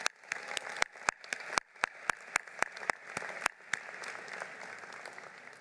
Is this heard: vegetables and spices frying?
no